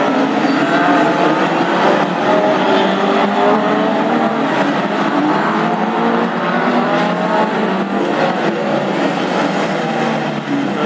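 Classic hot rod race cars roar away from the green flag at the start of a qualifying heat at Lochgelly, a dense, loud blend of engines revving and accelerating continuously with a bit of crowd and track noise.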